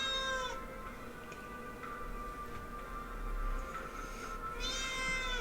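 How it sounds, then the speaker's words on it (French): A cat meows repeatedly for attention indoors, a few drawn-out, insistent cries near the start and again at the end, with quieter background noise between them and no talking. "Oui, mon chat, je t'entends."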